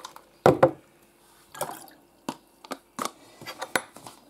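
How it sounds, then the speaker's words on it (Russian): Water splashes and drips into a container holding tomato seeds, heard as a series of separate close wet plops and trickles with quiet gaps between them and no talking. "Наливаю воды, помещаю туда все мои семена."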